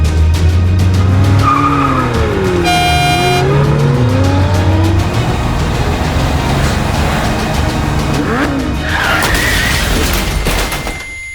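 A car in Roblox Brookhaven drives with a steady engine hum, then its tires squeal and skid loudly, the engine pitch rising and falling as it swerves.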